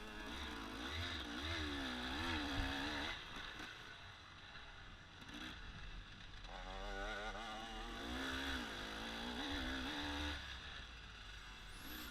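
A 300 motocross motorcycle riding a dirt track, its engine revving up and down continuously with rising and falling pitch, loud and close throughout, no voices.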